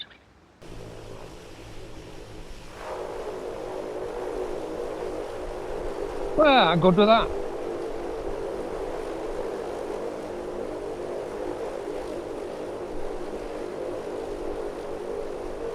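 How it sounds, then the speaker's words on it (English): A light propeller aircraft engine starts after landing and settles into a steady idle, a brief louder burst during start-up, with someone speaking over the running engine. "Start the engine."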